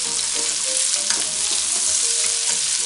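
Rabbit pieces fry in a pan with bay leaf, rosemary and oregano, giving a loud steady sizzle while a utensil stirs and scrapes through the meat, with no voices.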